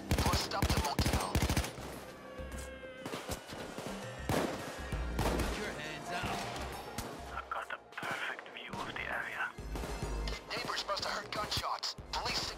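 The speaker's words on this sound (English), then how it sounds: "Gunshots!" Gunfire rattles through a shootout in the video game Payday 2, dense bursts of rapid shots mixed with crashes and background noise, loud and near throughout.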